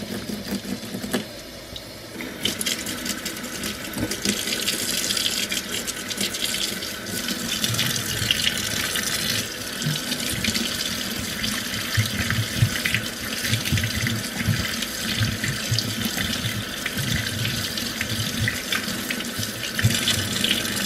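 Tap water runs steadily into a sink as a makeup brush is rinsed under it, a close, continuous splashing rush with faint sloshing as the bristles move through the stream.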